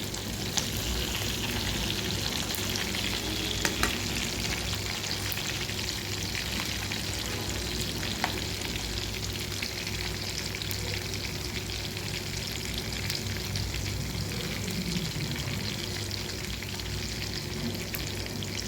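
Fish pieces fry in hot oil with a loud, continuous sizzle. Occasional sharp spits and pops break through, and no voice is heard.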